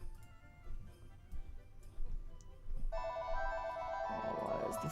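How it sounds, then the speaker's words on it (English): A telephone ring tone with bright repeating tones starts partway through and continues steadily over low background sounds, moderately loud. "Why is the phone ringing?"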